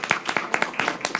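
Audience clapping at a talk on religious freedom in Brazil, a brief run of sharp, separate claps in a loose, uneven rhythm, fairly close and moderately loud.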